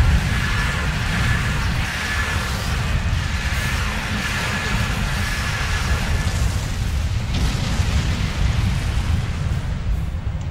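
Red torpedoes from a Voth Bastion flight deck cruiser exploding in Star Trek Online, a dense, continuous barrage of booming blasts over a heavy low rumble, unbroken and loud throughout.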